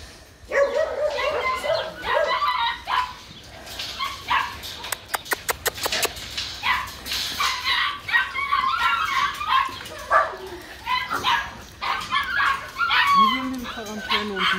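Dogs in the puppy kennels of an animal shelter bark, yip and whimper in scattered bursts, some close and loud, with a quick run of sharp barks partway through and people talking nearby.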